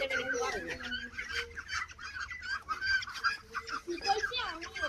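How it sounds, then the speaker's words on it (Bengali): Ducklings in a village setting peep and chirp in quick high calls through most of the stretch, close by, with faint talk now and then underneath. "এই যে হাঁসের বাচ্চা"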